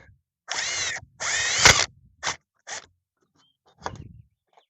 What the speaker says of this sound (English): Let's go ahead and just drill these out.